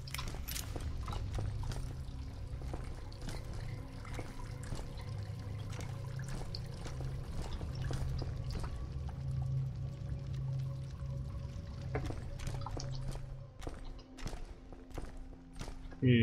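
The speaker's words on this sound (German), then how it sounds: "hier plätschert's links und rechts" Continuous pouring, splashing water in the Deadfall Adventures game, with regular soft tapping like footsteps and scattered clicks over a low rumble, steady for most of the stretch before a brief louder burst at the end.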